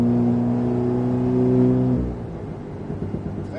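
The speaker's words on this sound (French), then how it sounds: "Allez, vas-y, accélère." An Alpine car's engine revs hard at full throttle on a driving track, a loud steady tone that climbs, then drops away into a lower rumble near the end.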